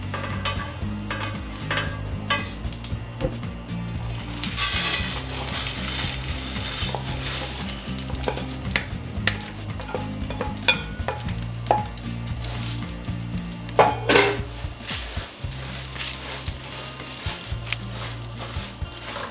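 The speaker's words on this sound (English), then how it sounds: "we're going to heat up some oil, and we are going to fry the uncooked rice until it's translucent" Three cups of uncooked rice fry in hot oil with a steady sizzle and the scrape and clatter of stirring, all under loud background music for the whole stretch.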